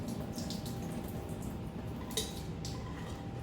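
Beans rinsed under a running kitchen faucet in a sink, a steady close hiss of flowing water with light clinks of the strainer or pot, no voices.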